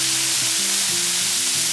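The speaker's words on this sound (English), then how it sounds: "That's a nice sizzle." Steaks sizzle steadily in a hot pan, a dense, continuous frying hiss with a low tonal hum running underneath throughout, close and fairly loud, with no talking.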